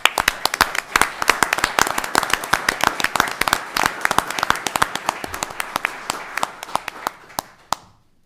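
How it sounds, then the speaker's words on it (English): A room of people at a county board of commissioners meeting applauding, dense close clapping for about eight seconds that tapers off and ends abruptly. "I'd like for everybody to please give you a round of applause"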